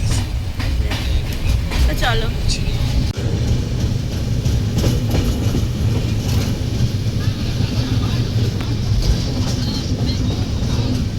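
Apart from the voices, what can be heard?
train running fast at night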